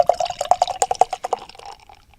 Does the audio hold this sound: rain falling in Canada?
no